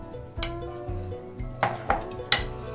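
Crushed ice cubes drop into a glass of semiya custard dry-fruit falooda, giving a few sharp clinks and clattering knocks against the glass in separate bursts, close and fairly loud.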